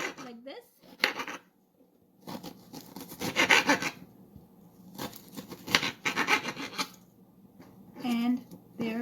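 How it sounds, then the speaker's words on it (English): A knife dices onions on a cutting board for French onion soup, making clustered scraping and chopping bursts separated by pauses, with a person talking in between. "Dice the onion"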